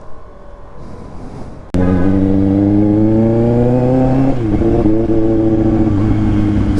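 Kawasaki ZX6R sport motorcycle starting up at about two seconds, then a loud, steady close-up engine drone while riding, its pitch rising and dipping briefly before settling; no talking.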